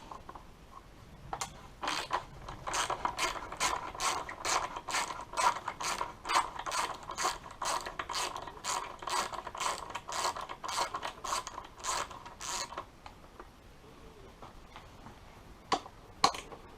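A hand ratchet loosens bolts on a Honda CBR650R 2022 license plate support, giving a long run of rapid, crisp clicks at an even rhythm, close up. It pauses near the end, then comes back as a few separate clicks.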